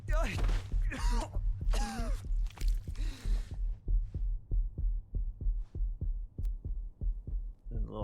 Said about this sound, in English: The little heartbeats beating in the controller too.